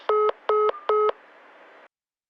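A telephone keypad sounds three loud, evenly spaced touch-tone beeps in quick succession, each a clean two-tone pulse, then a brief fading hum before silence.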